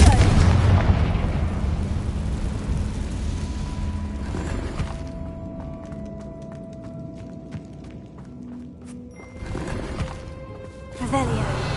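In the video game Hogwarts Legacy, a Confringo spell sets off an explosion: a loud booming blast at the start, then rumbling debris and a second burst near the end, with a tonal musical score underneath.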